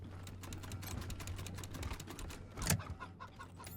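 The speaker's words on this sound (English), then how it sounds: "Another cyborg chicken." A cybernetically enhanced chicken in the video game Wasteland 3 clucks in short, rapid bursts over a low steady hum, with one sharper, louder squawk partway through, fairly faint overall.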